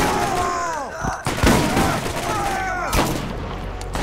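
Sniper rifle fire in the Borderlands video game: a few sharp, loud shots at irregular moments over a busy game soundscape with voices talking.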